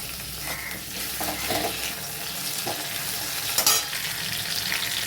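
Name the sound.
tomato frying and being stirred with spices in a wok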